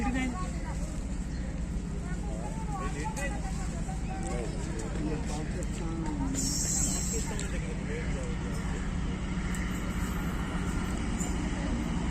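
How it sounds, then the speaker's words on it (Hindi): The Jaffar Express pulls in behind a Chinese-built ZC20 diesel locomotive at a Pakistan Railways station, a steady rumbling drone with squealing wheels and a sharp horn-like burst midway, while someone talks over it. "चाइनीज लोकोमोटिव के साथ जाफर एक्सप्रेस आ रही है ZC20।"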